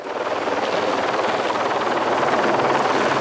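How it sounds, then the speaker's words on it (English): A police helicopter flies overhead during a search for cannabis plants, making a loud, continuous rotor thrum with a rapid chopping beat that builds slightly as it nears. "they call for help from Eagle, the police helicopter"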